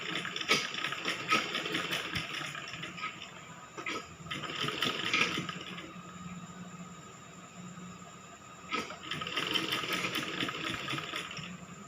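A sewing machine stitching baby frock cloth whirs in short bursts, several runs of quick mechanical rattling separated by quiet pauses, fairly faint and close by.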